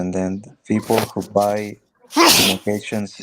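Someone speaking English with a Spanish accent sneezes once, sharply and loudly, in the middle of talking about selling produce at a wholesale market, with speech before and after it.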